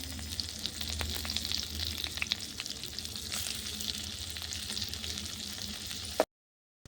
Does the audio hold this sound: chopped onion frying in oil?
yes